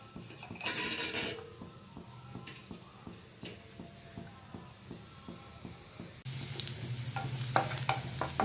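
Ginger pieces frying in hot sesame oil, a continuous close sizzle broken by rhythmic scraping and stirring clicks of a utensil against the pan, louder toward the end.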